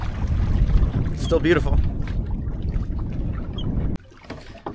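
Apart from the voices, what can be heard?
Windrider 17 sailboat moving through water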